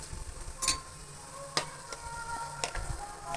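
Vegetables for a wedding-style vegetable pulao fry in oil, with a soft steady sizzle and a few sharp scraping stirs of a spoon against the pot, fairly close and quiet.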